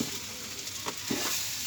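Ginger, garlic, onion, cinnamon, cardamom, bay leaf and almond paste go into a hot frying pot, giving a steady close sizzle with a couple of soft stirring scrapes and no talk.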